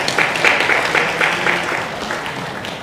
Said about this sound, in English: Let's give a big round of applause of Insights Analytics for the outstanding milestones.